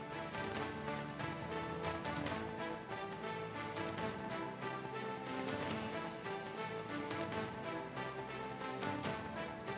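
Heavy rain with strong winds sweeping across Delhi NCR, a dense, steady hiss and patter of downpour that continues loud and unbroken throughout, with no voices.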